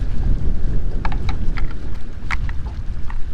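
Strong wind buffeting on Mark Twain Lake, a loud continuous low rumble of gusts against the microphone with a few faint higher clicks and knocks from the boat, no talking.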